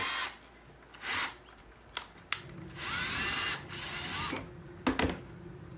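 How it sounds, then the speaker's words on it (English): A power drill bores a small hole in bursts for a pine-tree holiday craft, with short whirring spurts and quiet gaps between them, close and alone. "Just get a little hole drilled."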